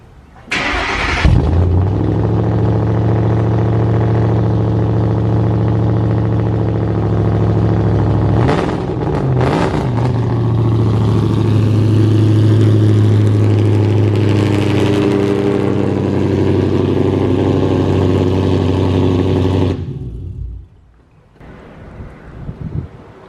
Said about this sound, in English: I want you guys to hear this exhaust